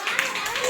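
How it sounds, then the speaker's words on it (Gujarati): A brief, busy burst of clapping comes from Class 3 children during a maths lesson at a school classroom, the claps blending into a steady rattle with voices mixed in. "ચાલો તાળી પાડી દો."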